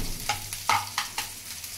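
Curry leaves and garlic frying in a pan for a fried amaranth-leaf dish, heard as a soft steady sizzle broken by several sharp scrapes of a spoon stirring, close and fairly quiet, with no talking.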